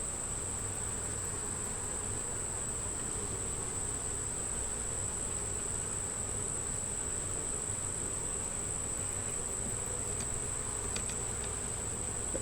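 Honey bees crowd a hive frame and keep up a steady, dense buzz at close range throughout, with no voices over it.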